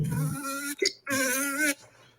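A voice imitates a fly with hiccups: a nasal buzzing drone broken by a sudden hiccup-like squeak, then resuming, close and clear.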